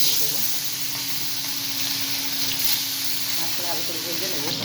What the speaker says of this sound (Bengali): এই যে মাছটা ভাজা হয়ে গেছে সুন্দরভাবে ভাজা হয়েছে